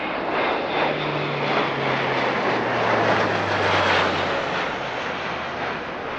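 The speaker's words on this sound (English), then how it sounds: "the aircraft will demonstrate a steep climb in takeoff configuration, demonstrating the immense power provided by its eight-bladed Europrop TP400 engines" An Airbus A400M with eight-bladed Europrop TP400 turboprop engines makes a steep climb in takeoff configuration at an airshow, a loud, sustained roar with a droning low hum that slowly falls in pitch.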